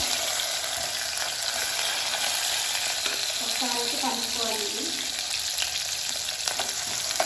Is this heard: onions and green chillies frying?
yes